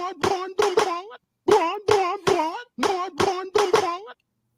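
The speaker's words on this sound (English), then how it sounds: "The seal claps are real." A seal sound effect plays as quick honking barks in three bursts of three, loud and close, with short gaps between groups and no talk.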